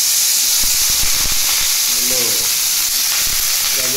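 Carrot, beans, peas and cabbage frying in hot oil in a pan over a high flame, a loud continuous sizzle and hiss close up, with some stirring clatter and brief voices in the background.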